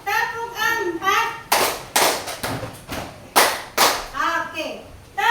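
During a classroom clap game, children's chanting voices alternate with crisp rounds of group hand claps, about half a dozen sharp claps spaced unevenly, close and loud.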